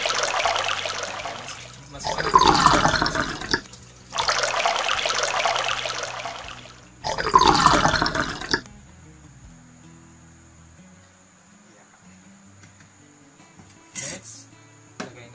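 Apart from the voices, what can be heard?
liquid being poured into a blender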